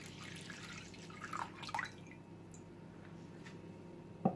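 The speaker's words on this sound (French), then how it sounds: "Je vais mettre 180 ml de lait tiède." Warm milk, 180 ml, poured into a large bowl while making Eid bread by hand-whisk, giving soft close dripping and splashing with a few brief squishy spikes.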